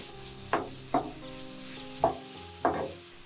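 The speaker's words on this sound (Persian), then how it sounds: "حالا سینه های مرغ خورد شده رو هم به پیازامون اضافه میکنیم و 2-3 دقیقه با پیازا تفتش" Diced chicken breast frying with onions in a pan, a soft steady sizzle with four distinct stirring scrapes spaced through the clip; no talk.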